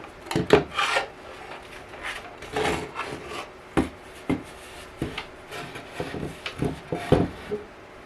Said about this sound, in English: Whatever this purfling's made of is not hardwood, because the chisel sinks in quite quickly.